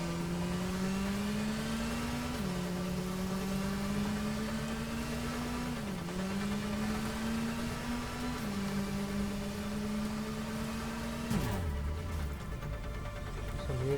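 Steady engine drone of a car driven in the Gotham Knights video game, pitch climbing slowly through repeated gear shifts and dropping sharply near the end, loud and continuous with no talk.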